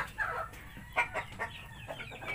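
Chickens cluck in short bursts close by, several birds calling over one another in a brief lively exchange.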